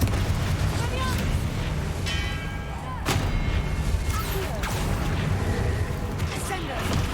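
Confringo blasting spells from a Harry Potter video game bursting again and again, sharp explosive cracks over a dense, loud background of battle noise.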